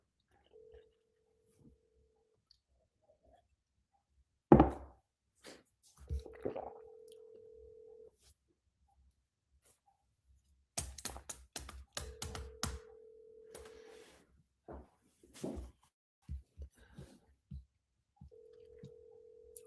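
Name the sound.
telephone ringing on an outgoing call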